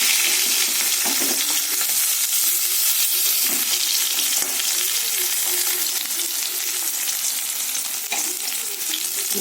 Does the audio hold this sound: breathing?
no